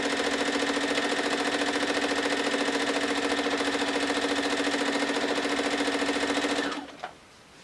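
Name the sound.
sewing machine stitching a fabric gift bag seam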